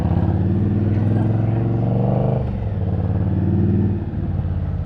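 A motorcycle rides through Midtown Manhattan in New York City, its deep engine rumble steady and close before dipping twice as the revs sag, nearly stalling.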